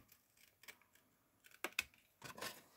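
Scissors cutting paper at a bevel for a scrapbooking berlingot box, with a few soft snips and then two sharper close cuts and a longer rasping stroke, quiet and intermittent with no talk.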